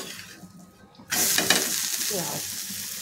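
A besan chila, a gram-flour pancake, is flipped in a pan and bursts into a loud, close sizzle. The frying hiss then holds steady with faint scraping under it.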